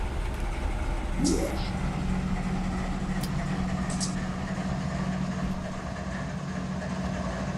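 Big road diesel locomotives spooling up slowly in Run 8 Train Simulator, a low steady engine drone with a rising whine early on, continuous and fairly quiet without talk.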